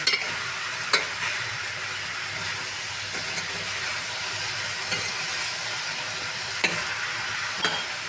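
Taro (arbi) curry being stirred with salt in a wok over a steady frying sizzle, with a few sharp spoon scrapes and knocks against the pan, close up and without talk.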